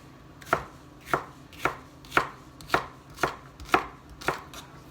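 A knife chops through half an onion on a cutting board, giving eight evenly spaced, crisp thuds in a slow, deliberate rhythm, close and clear with no talking.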